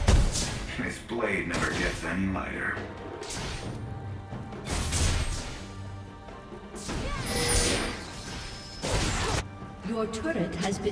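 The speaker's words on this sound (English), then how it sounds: "Your turret has been destroyed." A turret crumbles in the League of Legends video game, with crashing, thudding destruction bursts and game effects over several seconds, mixed with announcer and character voice lines.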